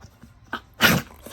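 A single sharp sneeze-like burst from a dog, close and loud, preceded by a brief sniff.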